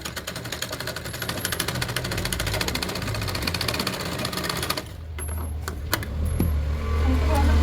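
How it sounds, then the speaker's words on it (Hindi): A sewing machine stitching a katori-cut blouse runs in a fast, steady mechanical whir with rapid needle ticking, close and loud, briefly easing before starting up again. "हमने लिया और उसको धीरे धीरे सिलाई लगाएंगे।"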